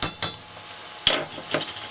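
A spoon stirring blanched lentils and lardons in a pot, giving a few close scraping strokes over a soft sizzle with short pauses between them.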